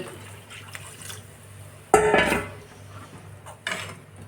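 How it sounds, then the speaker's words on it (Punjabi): A little water is poured into kadhi batter of lassi and gram flour for Punjabi kadhi pakora, making one short, loud splashing pour over a quiet kitchen background, then a briefer splash near the end. "ਹੁਣ ਆਪਾਂ ਪਾਵਾਂਗੇ ਥੋੜਾ ਜਿਹਾ ਪਾਣੀ ਵਿੱਚ"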